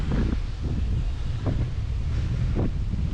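Strong wind at a beach with a rough sea, a loud continuous rumble buffeting the microphone throughout, with no voices.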